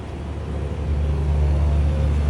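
A Tesla Cybertruck, brought back after a crash, rolls away under its own power: a steady, close low rumble of tires and drivetrain that builds slightly, with no one talking.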